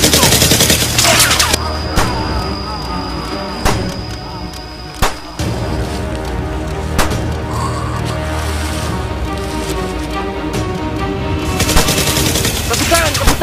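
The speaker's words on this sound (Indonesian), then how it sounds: "aku tembak mereka itu" Repeated gunfire bursts and sharp single shots crack through a comedic war skit, some rapid like machine-gun fire, others isolated bangs, close and loud amid background commotion.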